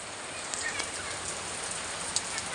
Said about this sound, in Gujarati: વરસાદ ચાલુ છે ધીમે ધીમે